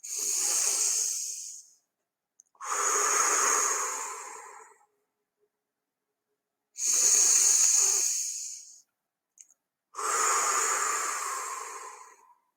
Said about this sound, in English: Let's take our 3 deep breaths